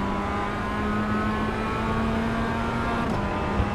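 Mazda race car engine in iRacing at the Nurburgring, a steady, droning mid-pitched engine note holding a constant tone while slipstreaming close behind another car, with a small bump near the end.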